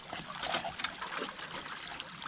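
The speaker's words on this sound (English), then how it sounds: "Give this one more quick rinse." Water trickling and splashing while gravel and a carpet mat are rinsed during gold prospecting in Rutherford County, North Carolina, a continuous close bubbling wash.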